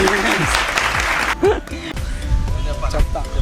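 A classroom or studio audience claps in applause for a correct answer about Independence Day and Republic Day, a dense, steady patter of many hands running almost the full length, with a brief dip partway through.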